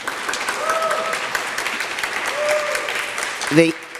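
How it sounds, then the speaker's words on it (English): An audience at a hospital lectureship and induction ceremony applauds the Johns Hopkins Hospital president, a dense, even wash of clapping throughout, with a brief voice and a bump near the end. "Please applaud for Redonda."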